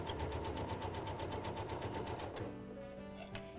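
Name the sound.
sewing machine stitching a non-skid pet bowl mat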